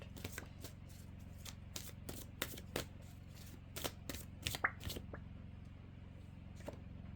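Oracle cards are shuffled by hand, a quiet run of crisp riffling slaps and flicks in irregular bursts that fade toward the end.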